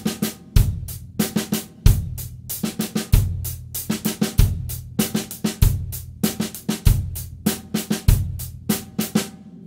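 Drum kit playing a funk-rock groove in which the snare works through sixteenth-note permutations of three strokes per beat, steady kick and cymbal underneath, punchy and close, cycling through several bars without voices.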